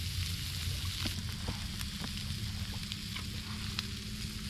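Butter sizzles steadily in a pan on a small cooktop, a continuous near frying hiss with a few faint clicks and no talking.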